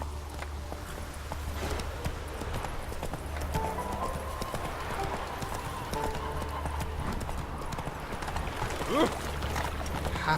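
Roach, the horse from The Witcher 3 video game, clip-clops along in a steady trotting rhythm, hooves close and clear over a low game ambience, with a brief whinny near the end and a voice speaking over it.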